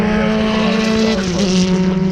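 A Scarab historic Grand Prix racing car, number 30, runs at Donington Park during qualifying, its engine a loud, steady, close drone held throughout without any talk.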